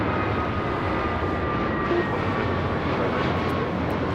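An Air Tahiti Nui Boeing 787-9 Dreamliner jet at LAX, a steady loud engine roar with thin whining tones, continuous without voices.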